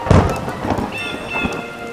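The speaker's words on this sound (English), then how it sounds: "Where did this rain come from?" Steady rain pours loud and close, opening with a heavy thundering thud and carrying on as a dense hiss while a faint tonal hum enters midway.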